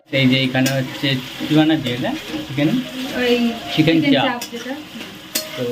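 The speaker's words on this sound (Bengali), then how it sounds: "বাটা মশলাগুলো আমি আস্তে আস্তে কড়াইতে দিয়ে দিচ্ছি তারপর ভালো করে কষিয়ে নিচ্ছি" Ground spice paste for chicken chaap biryani sizzles and fries in a wok, stirred with clinks and scrapes of a utensil against the pan, loud and close throughout.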